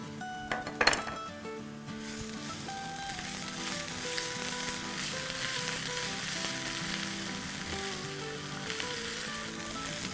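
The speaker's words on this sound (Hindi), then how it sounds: "बस 1 मिनट ही हम जिंजर गार्लिक के साथ भूनेंगे।" Ginger garlic paste sizzles and fries steadily in a pan for about ten seconds, with a brief clink of a spoon or utensil against the pan near the start; no voices.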